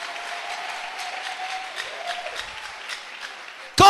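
Church congregation applauding at a sermon by a pastor, a steady wash of clapping throughout, closing with a loud, abrupt burst at the end.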